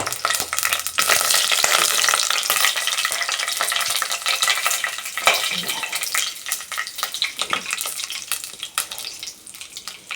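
Whole spices fry in ghee and oil for ghee rice, making a loud, dense crackling sizzle broken by scraping spoon strokes as they are stirred, close up and steady throughout.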